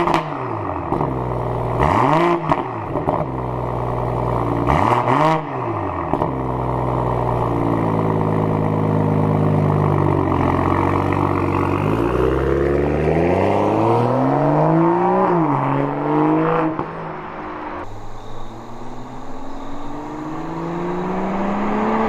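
A 2023 BMW M340i sedan accelerates on a test drive, engine revs sweeping up and down through several gear changes, loud and close, then settling to a quieter cruise.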